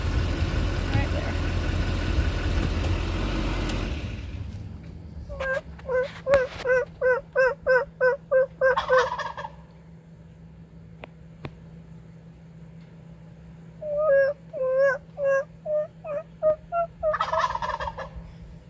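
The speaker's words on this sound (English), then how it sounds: "Turkeys pretty much every morning at our campsite." After an engine rumble cuts out, wild turkeys gobble in two rapid, rattling bursts, fairly loud against a quiet outdoor background at a Yosemite National Park campsite.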